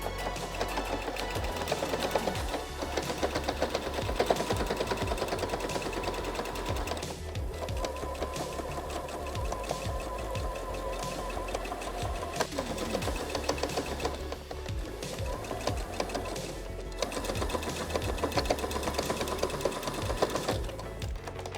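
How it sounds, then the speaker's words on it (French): A sewing machine topstitches the edge of a fabric dog vest, running in rapid, steady mechanical chatter for long stretches with a few brief pauses, close and loud with no voices. "on va faire une surpiqûre au bord, histoire de maintenir le tout tel quel"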